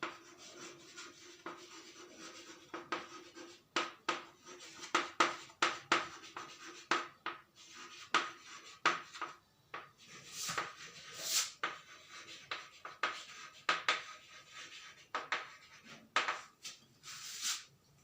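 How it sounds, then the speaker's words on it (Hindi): Pen writing notes by hand during a Hindi-language biology lesson on genetic engineering, a quiet run of soft scratching and rubbing strokes with brief pauses, alone and fairly faint throughout. "चलो मैं लिख देता हूं।"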